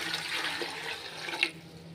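Water poured into a large pot, a steady broadband splashing stream running the full two seconds with a small surge near the end, close and fairly loud with no voices.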